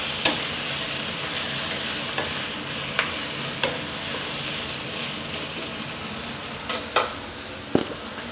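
Pickled bamboo shoots and pork stir-fry in chili curry paste in a hot pan: a steady, close sizzle with sporadic scrapes and clicks from a spatula tossing the mix.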